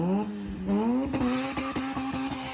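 A Mazda RX-7 rotary-engined sports car revs and accelerates, its engine note climbing in pitch, then stepping through quick shifts into a buzzing, pulsing drive, moderately loud and near.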